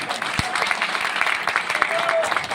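A motivational business seminar audience breaks into applause, a moderate wash of clapping that rises and falls, with a brief thump near the start and a faint voice mixed in.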